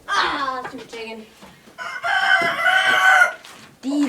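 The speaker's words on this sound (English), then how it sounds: "These are our new chickens." Farm chickens, including a rooster, crow loudly in two long bursts with clucking in between, close by; a voice speaks briefly near the start.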